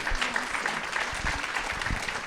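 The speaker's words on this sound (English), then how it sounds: "all of the speakers a round of applause" An audience at a Rare Disease Day event applauds its speakers with steady, dense clapping that fills the whole stretch at an even, moderate loudness.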